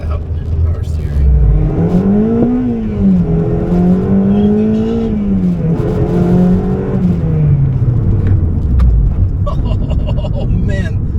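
K24-swapped eighth-generation Honda Civic engine accelerating hard, its loud, close drone rising and falling through the revs as it pulls, with voices talking over the engine noise throughout.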